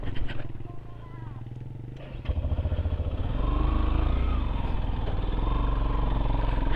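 Motorcycle on a steep hill road with its wheel slipping, the engine rising into a loud, strained roar that builds and holds near the microphone while people talk over it.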